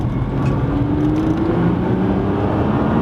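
A Nissan R35 GT-R pulls hard in third gear, its engine roaring loud and steady with a rising tone as it accelerates, heard continuously from inside the car.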